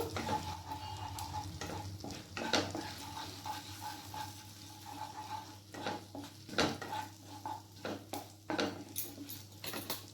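Whole cumin seeds crackling in hot white oil, a close sizzle broken by repeated scraping strokes of a spoon against the pan, irregular clinks and stirs throughout with no speech.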